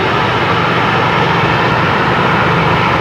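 Emirates airliner getting under way to taxi at Brisbane Airport at sunset, a steady, loud broadband jet engine roar holding constant throughout with no voices.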